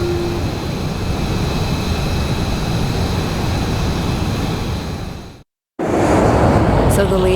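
A jet fighter takes off in the video game Ace Combat 7, giving a loud, steady, broadband engine roar that cuts out abruptly for a moment and then returns at full strength.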